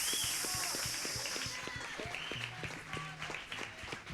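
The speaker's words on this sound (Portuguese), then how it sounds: "levante as suas mãos e aplauda ao Senhor" A church congregation at a Sunday celebration service claps along, a dense, steady rhythmic applause that sits under music and a few distant voices throughout.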